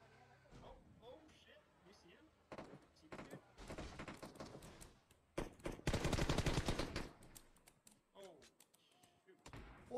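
Gunfire in a competitive squad shooter video game, repeated bursts and rapid automatic volleys of varying loudness, with players talking excitedly throughout.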